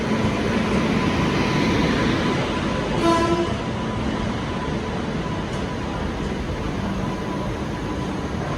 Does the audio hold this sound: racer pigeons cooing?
no